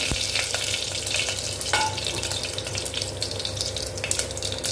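Mustard seeds, cumin and fenugreek spluttering in hot oil, a dense continuous sizzle with rapid crackling pops close up, no voices.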